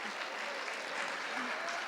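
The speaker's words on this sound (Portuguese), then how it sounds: "Pode aplaudir." Quiet, steady applause from a church congregation, heard faintly at a distance for a couple of seconds.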